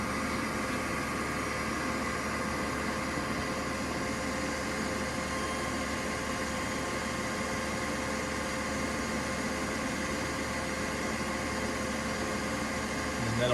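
A Toyoda GE3P-25M CNC plain cylindrical grinder runs a grinding cycle, giving a loud, steady, continuous machine drone and hiss that holds even throughout without pauses.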